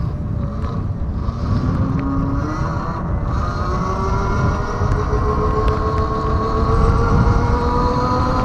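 A Tuttio electric scooter accelerating while being ridden, a rising motor whine climbing steadily in pitch over road and wind rumble, continuous and fairly loud.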